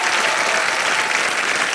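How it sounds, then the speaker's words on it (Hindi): Loud, dense applause from a studio audience on a televised game show, thanking a band, continuous and close for a brief moment. "जोरदार तालियां उनके लिए"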